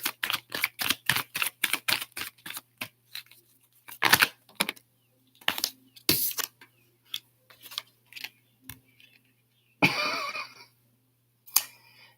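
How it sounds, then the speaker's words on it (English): A deck of tarot cards is shuffled up close during a live reading. Quick crisp riffling clicks come in a rapid even run, then scattered slaps and flicks, with brief talk between. "Let's get a good shuffle in here."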